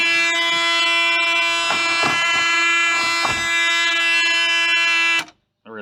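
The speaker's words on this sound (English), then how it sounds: "Sounds like a beep that should tell me to stop doing something" A steady, loud electronic warning tone sounds inside a Mazda FC RX7 project car being turned over in neutral, a continuous buzzing beep with a few clunks underneath, cutting off sharply near the end.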